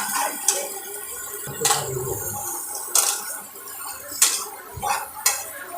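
Roasted eggplant bharta stirred in a pan, with a spoon scraping and knocking against the metal in regular strokes about once a second, close and clear, with no talk.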